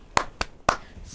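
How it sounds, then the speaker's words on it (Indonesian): Three sharp, close hand claps in an uneven rhythm during an online kindergarten class, with no voices over them. "Tepuk semangat."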